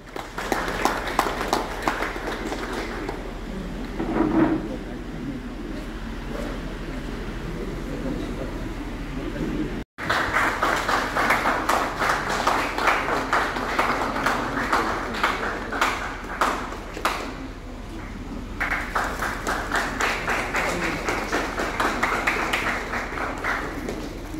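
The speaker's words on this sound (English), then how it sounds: "Please welcome them with a round of applause." Audience applause at a jubilee celebration: a dense, sustained round of clapping that fills most of the stretch, cutting out briefly midway before resuming at full strength.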